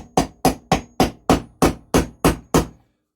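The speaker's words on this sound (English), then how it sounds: "get the bearing started. Then tap it in, making sure it goes in square." A hammer taps a bearing in through a socket during the rebuild of a WW2 JAP 2A generator set: nine evenly spaced, loud, ringing metallic strikes close up, then silence.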